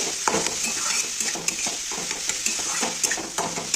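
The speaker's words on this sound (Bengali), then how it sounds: "মশলাটাকে ভালো করে বাঁধাকপির সঙ্গে মিক্স করে নিচ্ছি।" Shredded cabbage stirred with cumin and salt in a wok over the flame, a continuous bright sizzle with quick, repeated spatula scrapes and clinks against the pan, close and without speech.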